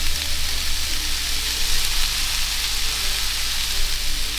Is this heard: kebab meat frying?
yes